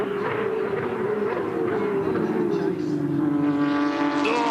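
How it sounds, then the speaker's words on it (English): Porsche Carrera Cup race cars at the Bathurst circuit, a loud sustained engine drone with falling and rising pitch as cars pass, with a commentator's voice running over it throughout. "We're just taking a moment to listen to the cars"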